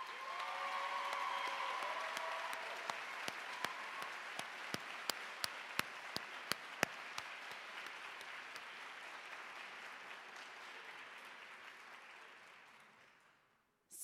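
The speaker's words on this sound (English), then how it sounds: "Let us give them a round of applause." Sustained audience applause at a White Coat Ceremony, a dense steady wash of clapping with a few sharp nearby claps standing out, slowly fading at the end.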